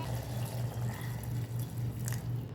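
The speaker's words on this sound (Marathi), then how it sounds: "याच्यामध्ये मी शिजण्यासाठी गरम पाणी टाकते" Hot water going into mutton in a pressure cooker, heard as a steady close pouring and bubbling with a regular pulsing rhythm that runs the whole time.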